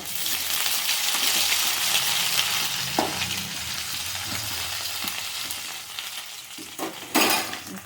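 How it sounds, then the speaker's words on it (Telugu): Green chilies and ginger-garlic paste fry in a pan with a loud, steady sizzle, interrupted by occasional utensil knocks and scrapes near the end. "వేసి కొద్దిగా ఫ్రై అవ్వనివ్వాలి."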